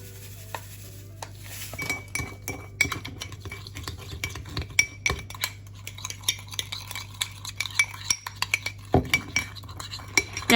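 A spoon or utensil scrapes and clinks around a bowl as melted butter, cinnamon, vanilla and sugar are mixed, a steady run of close scraping and stirring strokes over a low, constant background hum.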